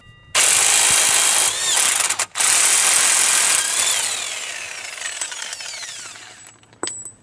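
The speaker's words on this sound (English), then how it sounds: "30mm deep impact socket on there. And the impact gun, just to whiz that off." Air impact gun with a 30mm deep socket spinning off a driveshaft nut on a 2002 Vauxhall Zafira 1.6 petrol, a loud, close, sustained rattling whir in two bursts with a brief gap, then tapering as the nut frees.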